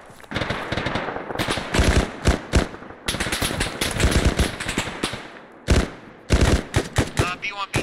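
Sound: gunfire in the video game Arma 3

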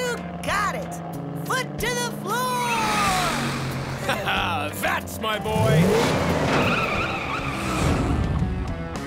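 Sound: cartoon monster truck accelerating with skidding tires

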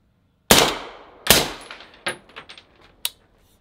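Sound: suppressed pistol gunshots

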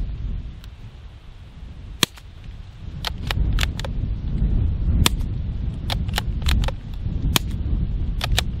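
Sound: suppressed Savage B22 rifle firing Aguila subsonic round at steel

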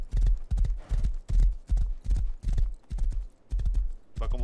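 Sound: horse galloping hooves in the video game Rust

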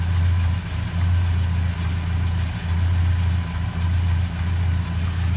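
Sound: 1953 Ford F100 239 flathead V8 engine running

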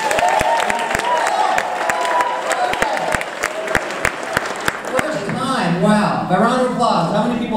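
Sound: comedy club audience applause

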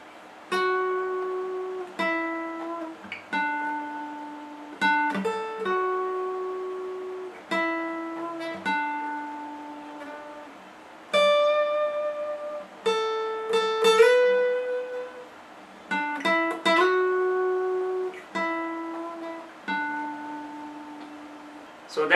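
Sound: guitar riff played slowly

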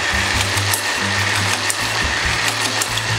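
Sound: whisking coconut cream to soft peaks

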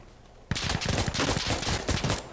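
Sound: single gunshot from a video game

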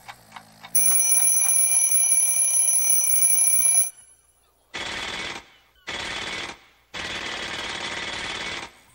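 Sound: alarm clock ringing

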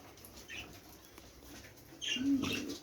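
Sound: budgerigars eating and flapping wings

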